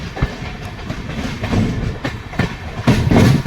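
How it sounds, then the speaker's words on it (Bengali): The Howrah–Darbhanga Express rolls around a curve into Jasidih station, its wheels knocking in a steady clickety-clack over the rail joints, loud and near, with a heavier rumble building toward the end. "খুব সুন্দর একটা কার্ভ নিয়ে ট্রেন জাসিডি স্টেশন এন্টার করছে"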